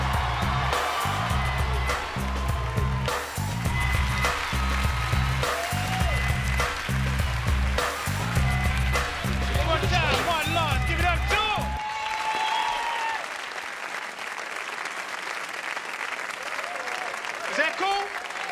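Loud, sustained applause and cheering from a stand-up comedy audience as a comedian takes the stage, continuous clapping with whoops that thins slightly toward the end, with some talk over it.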